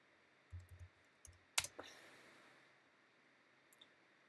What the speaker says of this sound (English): I'm going to go ahead and type in the following command